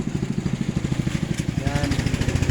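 A motorcycle engine, recently cleaned of corrosion, runs close by with a fast, even putter of exhaust pulses throughout.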